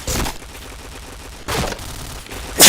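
Rapid gunfire bursts from a video game match, with a sharp volley at the start, another around the middle and a loud burst at the end, separated by quieter game ambience.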